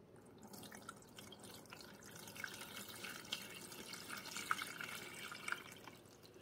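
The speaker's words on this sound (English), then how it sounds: "So we're going to pour our fresh water up here again." Water trickles and drips steadily into a Bunn Speed Brew coffee maker's reservoir, a soft continuous pour with occasional splashy drops, fairly quiet and close.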